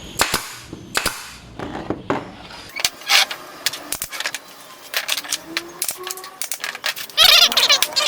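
A pneumatic nail gun fires nails into a wooden table frame during woodworking, producing a series of sharp, loud cracks spread irregularly over the span, with a denser burst near the end.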